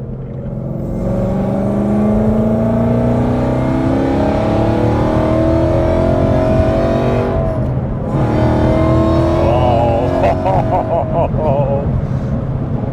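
An 862bhp supercharged Ford Mustang GT engine revving, a loud close growl rising in pitch through several climbing pulls, dipping once, then rising again with crackling blips, heard under people talking.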